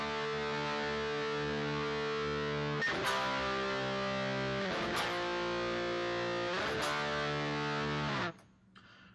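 Distorted electric guitar power chords from a riff, picked and left ringing, with three sharp chord hits spaced a couple of seconds apart before the sound cuts off near the end; no talking.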